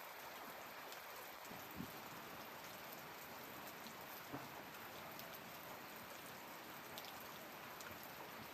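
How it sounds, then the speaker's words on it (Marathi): Heavy monsoon rain falls over a Marathi village, a faint, steady distant hiss with occasional soft drips and thuds, no voices present. "पाऊस एकदम जोरात झालाय"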